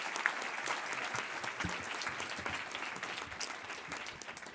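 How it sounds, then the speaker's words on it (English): Audience at a management school event in Philadelphia applauding a panel of speakers, a steady dense wash of clapping held at an even level for several seconds with no voices. "a round of applause for some wonderful speakers"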